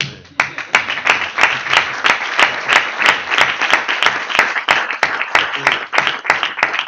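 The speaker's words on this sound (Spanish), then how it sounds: "voy a pedir un aplauso para él" Audience applause at a flamenco guitar round-table event, a lively run of crisp, rhythmic clapping that stays fairly loud and close for the full stretch, with sharp individual claps standing out.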